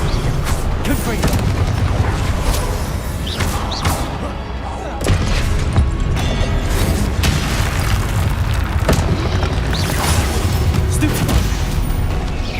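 Repeated Confringo fire-spell explosions during combat in Hogwarts Legacy, a dense run of loud booms and thuds layered with battle effects and shouted spell names, continuous for the whole stretch.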